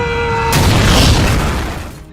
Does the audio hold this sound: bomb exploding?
yes